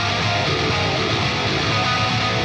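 Palm-muted guitar notes synthesized in Odin 2 and connected together, a dense, sustained, loud synthetic tone running steadily before cutting off abruptly at the end.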